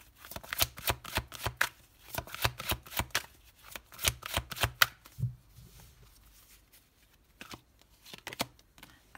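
Tarot cards are shuffled by hand in quick riffling bursts, crisp close-up flutters and taps repeating in clusters, then thinning out to a few softer shuffles near the end, with no voice.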